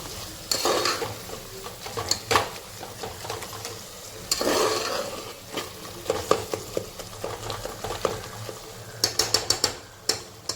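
Chopped tomato is stirred and sautéed in a pan, with repeated scraping strokes and clacks of a spoon against metal over a soft sizzle, in irregular bursts and a quicker flurry at the end; no voices.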